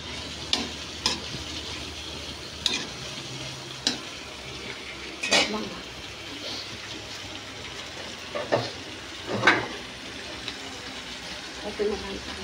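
A pot lid clatters onto a pan of string beans cooking for Filipino pinakbet, with several sharp metallic clinks and stirring scrapes over a soft steady sizzle in a home kitchen, fairly close.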